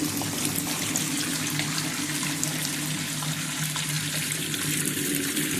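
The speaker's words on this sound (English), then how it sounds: "I'm gonna put a little water in here because I want y'all to see" Water runs steadily from a tap into a field sink used for endoscope reprocessing, a dense continuous rushing wash that stays loud and even throughout.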